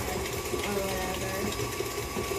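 A KitchenAid stand mixer runs, mixing sweet potato pie filling, giving a steady motor hum with a rhythmic whirring churn over the whole short stretch, close and fairly loud.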